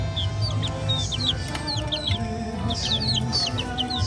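Cockerels and chickens cluck and call continuously around a poultry yard. Repeated short clucks and chirps overlap on a steady noisy background, fairly close and moderately loud, with no talking.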